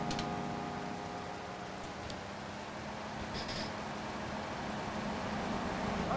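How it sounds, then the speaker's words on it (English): Rain falls in the GTA Vice City Definitive Edition video game as a steady, even hiss of drops with a faint low rumble beneath, continuous and moderately loud throughout. "The rain almost comes off as though it's a filter."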